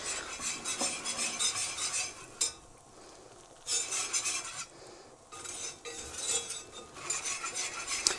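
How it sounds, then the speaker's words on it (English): A flour roux for mac and cheese is stirred in a pan, giving close, uneven bursts of scraping and clinking from a utensil, separated by short quieter pauses. "we do want to get all that flour flavor cooked out and get a little bit of a golden color on our roux"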